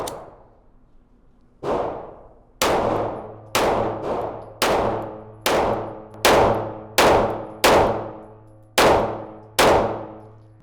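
Langdon Tactical Hellcat PRO pistol shots ringing off steel targets: about ten sharp cracks, each followed by a decaying metallic clang, fired at a steady, slightly uneven pace, loud and close with no talk.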